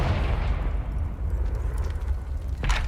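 A Confringo blasting spell goes off in the Hogwarts Legacy video game, a short sharp burst near the end above a steady rumbling, noisy game ambience.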